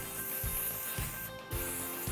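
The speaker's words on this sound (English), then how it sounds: "And we're just going to spray." Hairspray hisses out in a short burst onto back-combed hair for a ponytail updo, a brief soft spray set against quiet room background.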